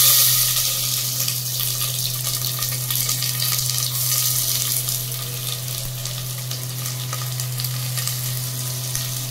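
Whole garam masala spices and a bay leaf crackle and sizzle steadily in hot white cooking oil for a butter chicken base, a dense continuous frying hiss with a low steady hum underneath and no talking.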